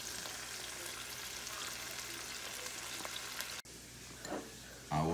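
Onion and garlic sautéing in hot oil for a seafood paella sofrito, a steady close sizzle that breaks off briefly, then returns with a few utensil clinks and scrapes.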